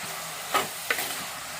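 Brinjal and dried prawn curry with salt and turmeric being stirred in a pan: two quick scraping strokes over a faint steady sizzle.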